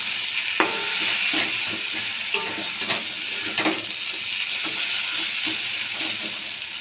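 Crab curry with red amaranth leaves, seasoned with salt and sugar, is stirred in a frying pan, giving a constant close sizzle with occasional spoon clicks and scrapes against the metal.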